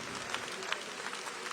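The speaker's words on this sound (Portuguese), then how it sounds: "Essas palmas foram lindas, maravilhosas" A church congregation claps together in continuous, dense applause, steady and fairly close throughout the brief moment.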